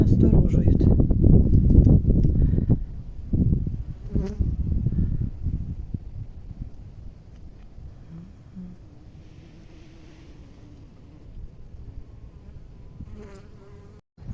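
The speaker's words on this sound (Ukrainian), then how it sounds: "Ось коло одного вулика бачу є бджілки, роблять свій обліт." Bees buzz around a beehive outdoors in a forest area, a close, loud hum at first that fades to a faint, scattered drone, with a person speaking over it.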